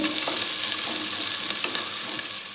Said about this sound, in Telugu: ఇప్పుడు 4 పచ్చిమిర్చి వేసుకుందాం. ఇవి బ్రౌన్ కలర్ వచ్చే వరకు మనం వేపాలండి.